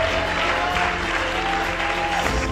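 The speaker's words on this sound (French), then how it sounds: "On peut donner une bonne acclamation à Jésus" A large audience at a church festival in Tokpa-Dôme, West Africa, claps and cheers in a dense, steady burst, with a few voices calling out over the applause.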